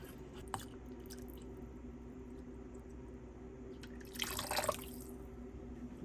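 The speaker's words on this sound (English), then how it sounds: "I'm going to fill it up with water to extract the juice from the coconut." Water is poured onto cut-up coconut in a bowl for juice, a short splashing rush near the end after a few faint drips and clinks in a quiet kitchen.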